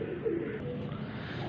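A pigeon coos softly in a loft, a brief low murmuring call over faint background noise.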